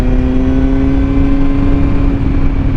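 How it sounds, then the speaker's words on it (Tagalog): A Kawasaki Z900 inline-four engine fitted with a Leo Vince exhaust hums at a steady pitch, loud and close, a smooth continuous drone with a clear tonal whine throughout. "Yung ungol ng inline 4."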